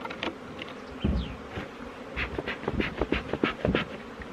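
Honeybees buzz steadily close by at an open hive during a spring inspection, a continuous droning hum with occasional soft knocks and rustles mixed in.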